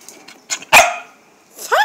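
A dog gives a couple of sharp, close barks between short pauses, with a brief whine-like yelp near the end.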